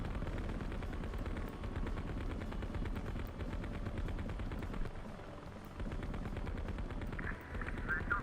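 Bursts of rapid machine-gun fire and explosions rattle through a war video game battle, dense and continuous at moderate loudness, with a tank in the fight.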